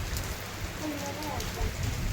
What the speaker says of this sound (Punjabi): ਆ ਕਣੀਆਂ ਪਈ ਜਾਂਦੀਆਂ ਨੇ ਦੇਖੋ